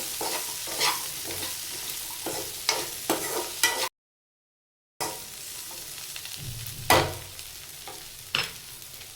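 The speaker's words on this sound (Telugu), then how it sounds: "మళ్ళీ ఒకసారి ఇట్లా కలుపుకోవాలి." Okra (bendakaya) frying in oil in a pan is stirred in repeated scraping strokes over a steady close sizzle, with a short silent gap partway through.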